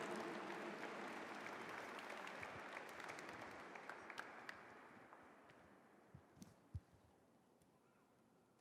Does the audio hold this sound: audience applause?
yes